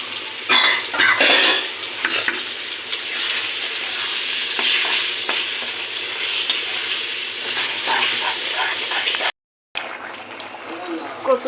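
Chopped garlic sizzles steadily in hot oil with taro leaves and hilsa fish in a pan, a bright continuous frying hiss with occasional stirring scrapes and clinks, interrupted by one brief silent gap.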